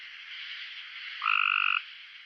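A Cope's gray tree frog gives a bright metallic trill against a dense chorus of other frogs, with one clear, loud call rising above the background near the middle.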